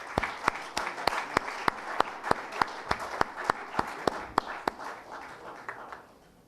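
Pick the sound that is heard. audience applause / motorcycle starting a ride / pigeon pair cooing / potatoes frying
audience applause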